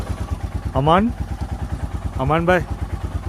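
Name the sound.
motorcycle engine running after cold start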